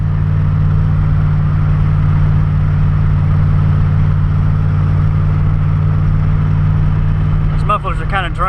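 A turbo LSX-swapped RX7 cruises in fifth gear, its engine and mufflers giving a steady, loud, low drone from inside the cabin, with a person starting to talk near the end.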